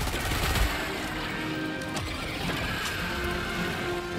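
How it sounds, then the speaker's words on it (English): Machine gun fire in a video game battle against bugs, a steady dense stream of rapid shots running the whole time, loud and continuous with no gaps. "Let me grab the machine gun here"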